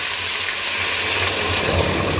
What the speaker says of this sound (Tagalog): mag-add na tayo ng tubig mga kabosing